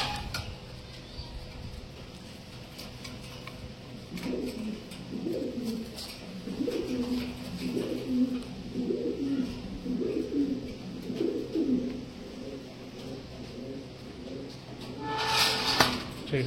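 Fancy pigeons in a village breeding loft in Namkhana, South 24 Parganas, cooing in a repeated rhythmic series of soft throaty calls, fairly near, with light clicks and rustling around them.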